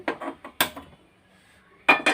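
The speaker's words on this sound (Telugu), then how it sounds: "పాన్ పెట్టాను" A pan set down on a stove with several sharp metallic clanks and knocks, close by, separated by a short quiet gap.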